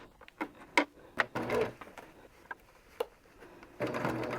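A sewing machine stitching a 1/4 inch seam on the binding of a batik boho throw quilt, running faint and close in short stop-start bursts with clicks, then a steadier buzz at the end.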